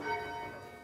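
Church bells at St Mary's ring in a short burst, bright overlapping tones sustaining and slowly fading, fairly distant and moderately quiet.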